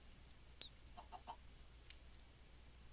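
A Minecraft chicken gives a few faint, brief clucks over a low steady background hum, one short squawk followed by softer clucking.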